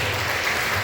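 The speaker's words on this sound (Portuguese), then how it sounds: "Vamos aplaudir a palavra do Senhor" A church congregation applauds after a sermon reading on the meaning of Shalom, a brief, dense wash of clapping with steady loudness and no voices heard.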